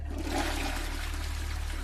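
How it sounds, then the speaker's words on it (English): Toilet flushing at a distance, a steady muffled watery rush over a low rumble that holds for the whole short stretch, with no voices. "he suddenly heard the sound of a toilet flushing in the distance."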